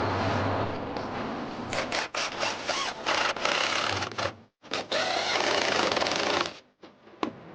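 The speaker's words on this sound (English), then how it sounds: "We're going to sink 1 5/8 screws in this" A driver sinks 1 5/8 inch screws into a wooden play-ship rail, with a series of short, close whirring and grinding bursts separated by brief pauses.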